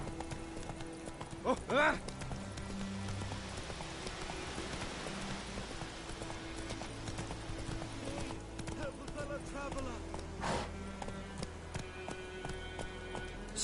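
Horse hooves clip-clop at a gallop in The Witcher 3 video game, a steady rhythmic beat under game music and ambience, with brief voiced shouts from a rider.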